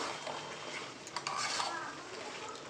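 A spoon scrapes and stirs chilli chicken in sauce around a pan, with soft clinks and a faint simmering sizzle, quiet and close.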